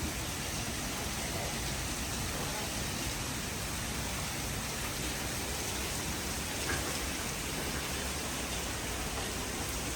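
Steady, dense rainfall from Hurricane Milton hisses continuously, an even wash of noise with no breaks, fairly close and enveloping.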